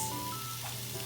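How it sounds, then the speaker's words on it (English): Ground hamburger meat sizzles in a hot pot, a steady soft hiss and crackle carrying through the whole short stretch with no voices. "if you listen close, you can hear it sizzling"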